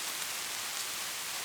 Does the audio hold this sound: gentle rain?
yes